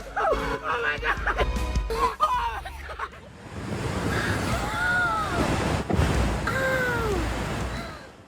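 King tide waves surge onto a shore with a broad, steady roar of surf and wind, and high wavering cries rise over the water. Voices and rustling come first, before the waves take over.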